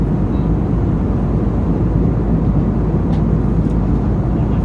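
Steady broadband roar of an AirAsia airliner cabin in cruise on a Bangkok to Chiang Rai flight, a constant heavy engine and airflow drone filling the whole clip with no speech.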